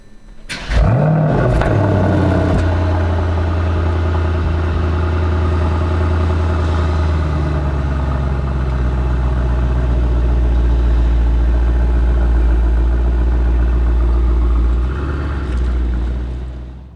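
A Mercedes-AMG E63 S sports sedan's 600-plus horsepower engine roars up after startup, then settles into a deep, steady rumble as the car drives along, close and loud throughout.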